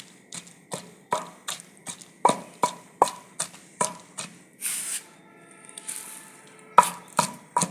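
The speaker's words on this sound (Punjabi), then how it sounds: "ਆਪਾਂ ਟਮਾਟਰ ਜ਼ਿਆਦਾ ਬਰੀਕ ਨਹੀਂ ਕਰਦੇ ਮੋਟਾ ਮੋਟਾ ਹੀ ਰੱਖਾਂਗੇ" Knife chopping tomatoes coarsely on a board for a Punjabi green chutney, a steady run of close, crisp chops with a short pause and a brief rustle midway before the chopping resumes.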